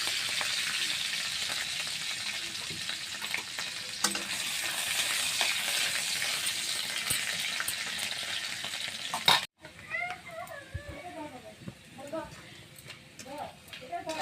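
Garlic and two dried red chillies fry in oil left over from frying potatoes, a steady bright sizzle with occasional stirring clicks, then the hiss drops away and a person talks over quieter kitchen sounds.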